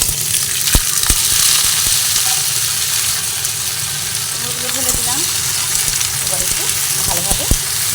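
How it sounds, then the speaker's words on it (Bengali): Pumpkin pieces fry with ginger in a pan, giving a steady broadband sizzle, with spatula scrapes and knocks marking the stirring at intervals. "নাড়াচাড়া করে করে কুমড়োগুলোকে ভেজে নিচ্ছি"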